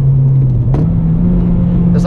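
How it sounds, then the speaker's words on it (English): A car engine hums at a steady idle-like drone, rising slightly in pitch partway through as the throttle is tapped during a heel-toe downshift, heard from inside the cabin at close range. "clutch in, tap the throttle, put it in your gear, and let off the clutch"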